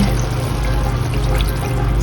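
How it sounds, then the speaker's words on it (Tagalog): Water pouring steadily into a pan of cut eggplant while cooking chicken curry in a home kitchen, a continuous close splashing stream with no talk. "Lagyan natin ng tubig."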